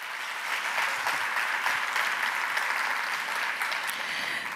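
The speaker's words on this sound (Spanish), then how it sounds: "Un aplauso para ella" An audience at an international care congress applauds a speaker taking the stage, dense even clapping from many hands held steadily throughout without voices.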